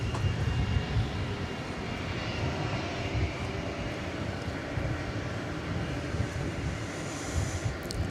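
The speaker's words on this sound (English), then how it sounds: "It's an Airbus A300 flight 755." An Airbus A300 on Flight 755 at Dallas/Fort Worth Airport at night, bound for Chicago Rockford, gives off a deep, steady engine rumble that holds at moderate, distant level throughout, with no voices.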